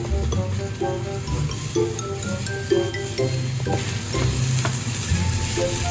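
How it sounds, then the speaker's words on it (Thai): Jungle fried rice stir-fried over high heat, with a steady loud sizzle and repeated scraping and clattering of the spatula in the pan, continuous and close, with no voices. "ใช้ไฟแรงผัดไปสักพักหนึ่งนะคะ"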